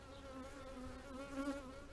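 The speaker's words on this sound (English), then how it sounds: "Might have a bee inside my suit." Honey bees buzz steadily and close from a package colony checked a week after installation, a continuous faint drone with no talk over it.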